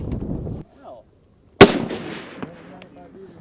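A MAAWS recoilless rifle fires a single loud, sharp blast on an army range, followed by a rumbling echo that decays over a couple of seconds, with a brief voice before the shot and faint talk after.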